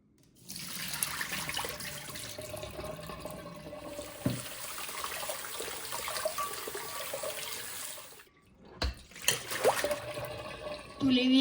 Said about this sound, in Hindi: कलेजी को धो लेते हैं।